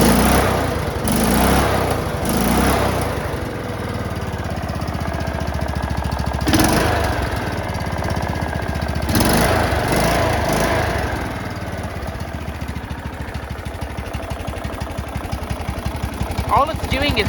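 A homemade racing lawn mower engine idles in a steady, loud, rattling putter with several brief surges, while a person talks over it.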